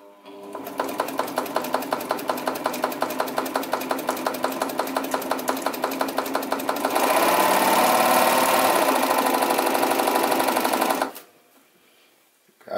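PFAFF 92 sewing machine stitching at 0.5 stitch length, a rapid steady mechanical clatter close by that speeds into a denser whir partway through, then stops abruptly.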